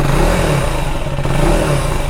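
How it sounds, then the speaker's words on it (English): A KTM Enduro 390R motorcycle idling and revving, its exhaust note a loud, steady, close drone that holds for a couple of seconds with no voices. "let me just turn on the bike and show you guys the exhaust note"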